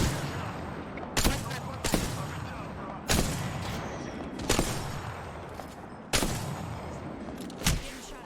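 Gunfire in a video game, several sharp repeated shot bursts spaced a second or two apart over a busy, noisy game soundscape.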